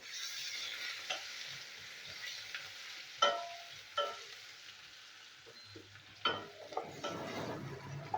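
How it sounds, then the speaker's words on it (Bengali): Chopped onion frying in oil with cumin seeds for an okra dish, a soft steady sizzle broken by several sharp scraping stirs of a spatula against the pan. "তো পেঁয়াজের কুচিটা এটা আমি ভেজে নেবো"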